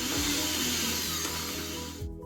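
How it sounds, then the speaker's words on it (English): A food processor blitzes beetroot falafel mixture into a coarse paste, a loud whirring motor buzz running close up for about two seconds before it cuts off abruptly. "Just going to blitz these up then, just for about 10-15 seconds until we get a nice coarse paste."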